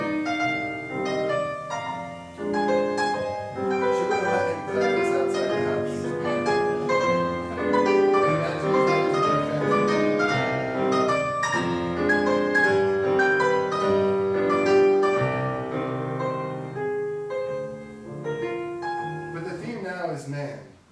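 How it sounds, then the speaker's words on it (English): Solo piano plays an intimate Romantic piece by Schumann, sustained chords and a singing melodic line unfolding at a gentle, flowing pace, moderately loud and close, with a soft fade at the end. "This is a piece by Schumann, which is a very intimate piece."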